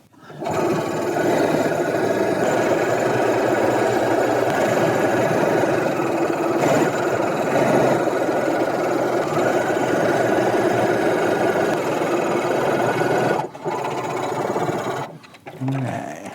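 A sewing machine stitches fabric along a ribbon edge in a long, steady, close mechanical whir, pausing briefly twice near the end.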